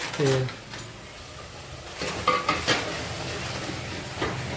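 Gravy for a shing bhajiya curry is stirred in a pot, a soft scraping swish with a faint sizzle and the occasional clink of the spoon. A brief voice is heard near the start.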